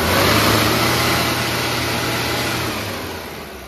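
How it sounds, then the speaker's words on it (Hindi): Mahindra Bolero BS4 engine revving up close, a steady loud roar that holds then slowly eases off, with no talking. "ज़रा रेस करना गाड़ी और बंद करना।"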